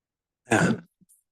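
A single short, harsh cough up close, followed by faint small throat sounds in the quiet.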